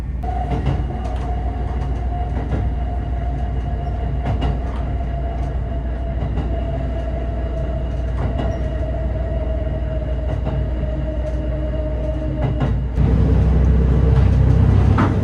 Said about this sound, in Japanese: 列車は徐行運転で速度を落として渡っていきました。